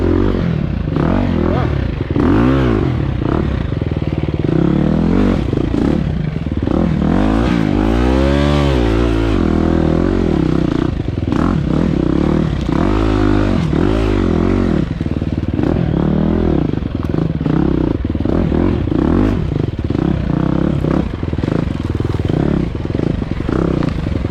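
An enduro dirt bike rides a slick, tight, technical trail, its engine loud and close, revving up and down repeatedly, with clattering and scraping of the bike over rough ground throughout.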